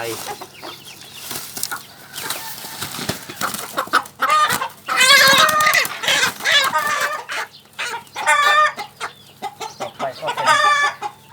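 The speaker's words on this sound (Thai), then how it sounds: "เพาะพันไก่ จีนยูนานนะครับ" Chinese Yunnan breed chickens cluck and squawk close by in repeated bursts, with occasional crowing-like calls mixed in, over a quiet background and without any speech.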